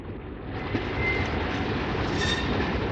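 Trains rumble and clatter through London Waterloo station amid its mix of coach stock and locomotives, a loud continuous roll of wheels with faint squeals and rail clicks.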